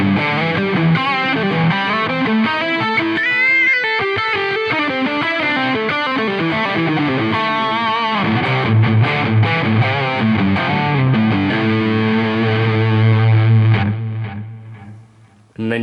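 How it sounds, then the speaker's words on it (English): High-gain electric guitar tone from a Soldano SLO amp model on a Line 6 Helix, heavily distorted and fizzy, played in a busy riff with chords and single notes, then ringing out on a sustained low note that cuts off at the end. "there's quite a lot of that fizzier stuff going on here because we're using an incredibly high gain tone"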